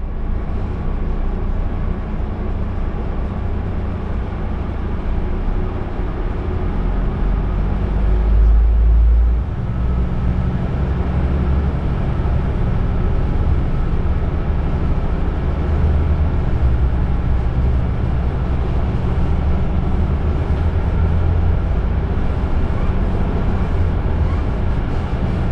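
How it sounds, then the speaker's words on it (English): A Lint 41 diesel railcar engine on the Harz-Berlin Express, a steady, rumbling drone with a low throb, continuous and fairly loud throughout, with no voices. "now we can listen to the sound of the Lin 41 of the Harz-Berlin Express"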